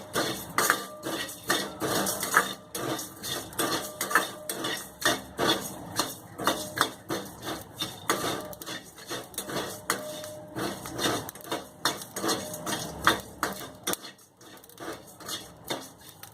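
Whole garam masala dry-roasted in a pan for a Malvani onion and coconut paste, with repeated quick clinks and taps of a spoon stirring and scraping against metal, steady and close, with no talking.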